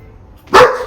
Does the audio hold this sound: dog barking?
yes